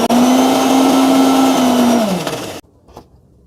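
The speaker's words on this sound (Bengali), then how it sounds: "এবার আবার ব্লেন্ড করে নেব।" A blender whirs loudly and steadily, blending homemade mayonnaise with added oil, then winds down and stops abruptly near the end, leaving a faint clatter.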